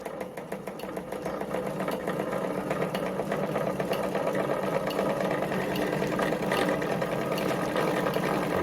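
A Singer model 237 sewing machine runs steadily while winding a bobbin, giving a continuous close mechanical whir with fast rhythmic clatter and no talking.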